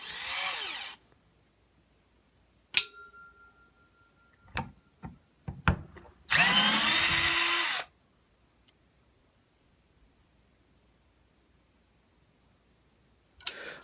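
A power screwdriver backs out self-tapping panhead hex screws from the plastic casing of a 3-inch polisher, with a few short whirring bursts separated by quiet gaps and clicks, close and fairly loud.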